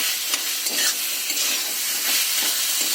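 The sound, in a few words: rice and potatoes being sautéed and stirred in a pan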